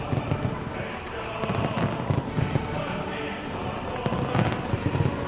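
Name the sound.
fireworks display at anniversary gala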